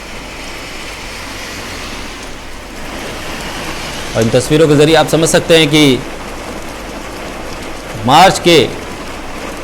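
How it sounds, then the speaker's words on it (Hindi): Steady broadband rain hiss over the Delhi NCR area runs throughout as continuous background wash, with a person speaking partway through and again near the end. "बारिश इस वक्त दिल्ली एनसीआर के इलाकों में"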